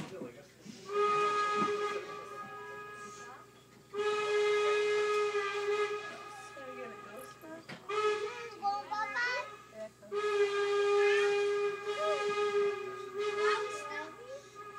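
A steam train whistle sounds in several long, wavering blasts separated by short pauses, moderately loud with some distance to it.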